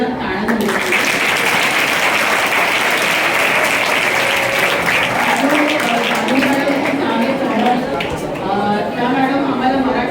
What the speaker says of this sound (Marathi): ह्या तिन्ही मॅडमसाठी जोरदार टाळ्या झाल्या